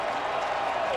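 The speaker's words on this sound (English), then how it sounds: "Is this crowd trying to get the A's going here in the bottom of the 6th inning?" A packed baseball stadium crowd in Oakland cheers and claps steadily during the bottom of the sixth inning of a 2013 playoff game against Detroit, a dense, even roar with a commentator's voice underneath.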